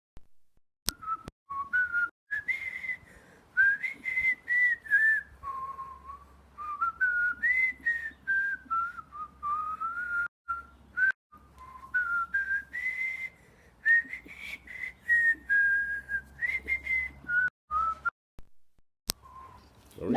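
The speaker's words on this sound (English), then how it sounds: "now I could whistle" A person whistles a wandering melody alone for a long stretch, clear and close, with brief pauses and faint background hum.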